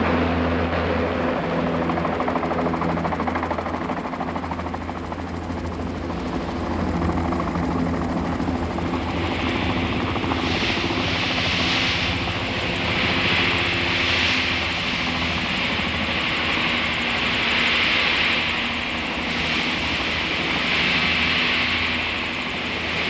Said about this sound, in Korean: 공작강을 답사한 팀이 헬기로 도착해서 이미 누란에 와 있던 다른 동료들과 합세했다.